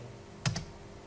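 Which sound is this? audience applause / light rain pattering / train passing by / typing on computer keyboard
typing on computer keyboard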